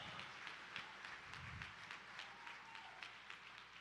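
Faint, scattered clapping from a small group at a charity gala, soft and uneven, fading in and out against a quiet background.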